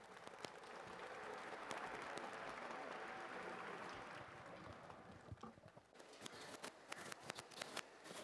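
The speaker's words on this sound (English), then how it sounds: "Can we have a big round of applause for the runners out here?" Crowd applause for runners at a cancer awareness marathon event in India, dense outdoor clapping that swells and continues, then breaks into scattered louder claps near the end.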